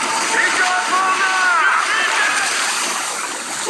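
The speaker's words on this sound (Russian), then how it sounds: "Идет волна!" A heavy ocean wave crashes over a sailing ship in a storm, rushing water and splashing surging continuously, loud and close, with raised voices calling out over the roar.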